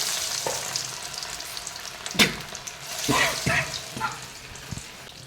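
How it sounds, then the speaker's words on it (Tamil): Chicken 65 pieces fry in hot oil over a low flame, a soft continuous sizzle broken by a few louder crackles and spatters as the pieces are dropped in one by one. "எண்ணெய் சூடானதுக்கப்புறம் அடுப்பை சிம்மில் வச்சு கொஞ்சம் கொஞ்சமாக வந்து கறியை போட்டு நாம் அதை ஃப்ரை பண்ணி எடுத்துக்கலாம்"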